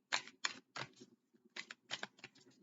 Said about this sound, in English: Okay, so I'm going to shuffle.